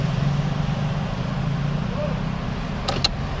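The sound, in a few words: passing cars and motorbikes heard from inside a Toyota Yaris Cross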